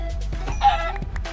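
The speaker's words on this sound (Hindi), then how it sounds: "ये मुर्गी मेरे को बहुत खटक रही है" Chickens clucking in the Minecraft video game, a short burst of clucks in a busy in-game soundscape, moderately loud and close.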